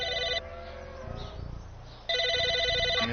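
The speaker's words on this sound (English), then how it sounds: "let's go answer the phone" A telephone in the video game Psychonauts rings in loud electronic trilling bursts, one at the start and another after a short gap, against low game ambience.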